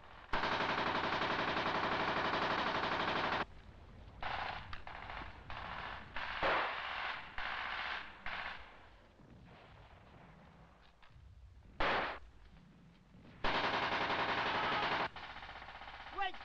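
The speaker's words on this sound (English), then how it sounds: "I'm under heavy enemy fire" Sustained machine-gun bursts and rifle fire during infantry fighting in a village, loud long rattling volleys at the start and end with scattered sharper single shots between.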